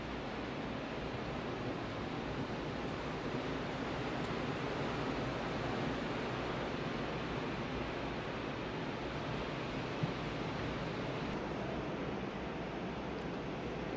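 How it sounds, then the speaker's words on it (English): Ocean waves breaking on the Daytona shore at sunrise, heard from a beachfront hotel room as a steady, distant roar of surf with no distinct individual crashes and no talking. "You can still hear the waves cracking on the shore."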